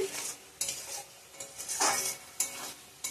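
Spices cook down with chopped tomato and oil in a pan for rohu fish kalia, giving a soft sizzle broken by scraping spatula strokes and light metallic clinks against the pan, close by and fairly quiet.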